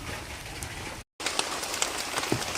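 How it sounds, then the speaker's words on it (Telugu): Steady rain, falling since the night before, patters on surfaces in a forest village. It is a dense, even hiss with scattered drops and one brief dropout near the start. "వాన అయితే రాత్రి నుంచి పడతానే ఉంది, కొంచెం కూడా గ్యాప్ ఇవ్వటం లేదు."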